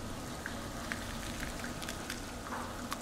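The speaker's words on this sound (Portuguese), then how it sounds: "Começou a chover." Rain in the video game Little Inferno patters steadily as a soft, even hiss with scattered tiny drop ticks, faint and alone.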